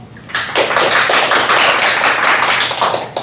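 A union rally crowd applauds a steelworks irregular-workers branch leader, a dense, loud wash of many clapping hands that starts sharply and holds steady, with a few scattered louder claps and no speech.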